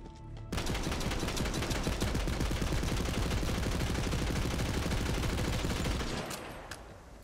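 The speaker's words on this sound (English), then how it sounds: "The Gatling gun." Rapid Gatling gun fire from Borderlands 3, a dense, loud continuous burst of shots lasting about six seconds before cutting off, with no talking.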